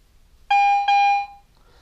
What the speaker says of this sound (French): le son aigu, c'est un son de clochette un peu.